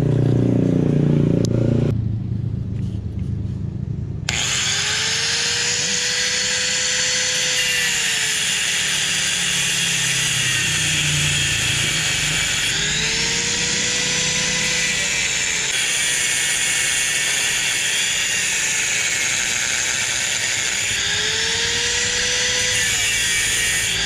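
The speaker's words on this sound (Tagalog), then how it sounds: "Hindi natin matanggal eh, grinder rin natin." An angle grinder cuts through a stuck motorcycle piston, giving a loud, steady high-pitched whine that rises and falls in pitch as the disc bites into the metal, running continuously after a brief lower rumble at the start.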